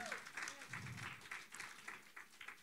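A church congregation gives a round of applause for God during a sermon, with scattered, uneven claps heard faintly and at a distance, and a voice briefly audible at the start.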